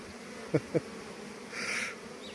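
Honey bees buzz faintly around hive frames, with a soft, steady drone, two brief knocks and a louder hum swelling near the middle.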